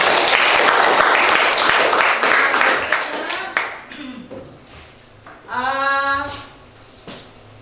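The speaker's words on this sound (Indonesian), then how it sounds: "Kita beri aplaus semua untuk kita hari ini" A classroom of students applauds together at close range, a dense burst of clapping that thins out over several seconds before a teacher's voice briefly speaks.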